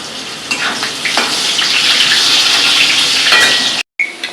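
Potatoes fry in a pan with a loud, steady hiss and crackle close by, broken by a few light scrapes of stirring and a brief cut-off near the end.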